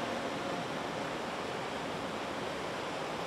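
A river cascade pours down beside a tree leaning out over the water, giving a steady, dense rush of flowing water that holds constant and close throughout with no voices.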